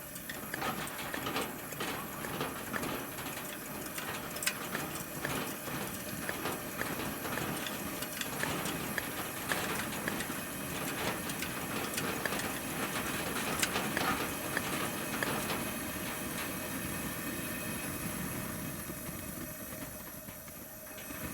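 The fuel tank of a Coleman 413D camp stove being hand-pumped, a long run of faint, soft, repetitive mechanical strokes and clicks over a steady background hiss.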